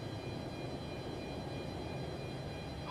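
A Boeing 747-200 engine spools up in a flight simulator game, a steady droning whine with a constant rumble underneath that holds level throughout.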